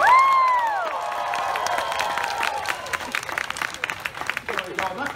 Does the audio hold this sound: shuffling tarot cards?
no